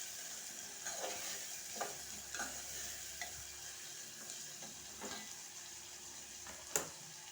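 Meal maker (soya chunk) curry sizzles steadily in a pan, a constant hiss of frying broken by several scraping stirs of a spoon, close and alone with no voices.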